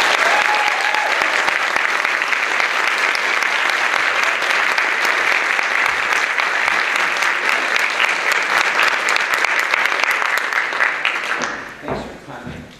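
An audience applauds to welcome Seth Rudetsky at the Farmington Players: loud, sustained clapping from a full room that holds steady for about eleven seconds, then fades away.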